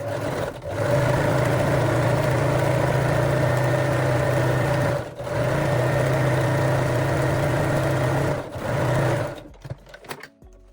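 A sewing machine stitches lace onto elastic for a thong, its motor running in a steady, loud whir. Two brief pauses break the stitching before it stops near the end.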